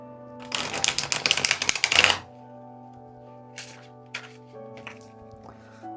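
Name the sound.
riffle shuffling an oversized tarot card deck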